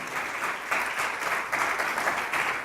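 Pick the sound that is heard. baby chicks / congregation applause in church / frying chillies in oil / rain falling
congregation applause in church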